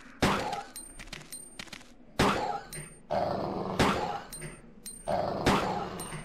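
Zombie dogs in Resident Evil 2 on the PS1, snarling and growling in several loud, close bursts with short gaps between them, mixed with sharp game impact sounds and no speech.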